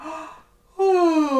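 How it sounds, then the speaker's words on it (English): A big exaggerated yawn shown as an oboe embouchure exercise during a warm-up lesson, a breathy inhale followed by a pause and then a loud, sliding voiced yawn that falls in pitch. "Nice big yawn, bottom of the lip."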